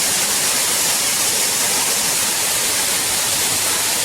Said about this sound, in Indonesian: Objek wisata Temam yang menawarkan keindahan air terjunnya ramai dikunjungi warga